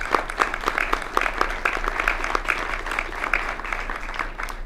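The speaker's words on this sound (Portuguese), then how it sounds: "Gostaria de pedir uma salva de palmas para o Dr. Henrico Asser" An audience at an opening ceremony claps steadily, a dense, even wash of applause that holds for several seconds with no break.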